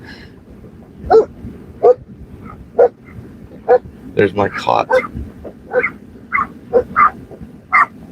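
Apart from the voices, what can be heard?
dogs barking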